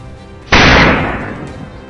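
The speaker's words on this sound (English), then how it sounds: "the gunshot rings out almost simultaneously" A single loud gunshot during a wild boar hunt in snow cracks sharply, then its blast rolls off and fades over about a second, close and alone with no talking.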